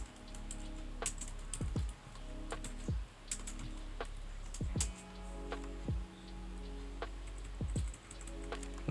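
Steady keyboard typing of a MySQL query on a computer, a run of close, crisp key clicks over a low constant hum with no talking.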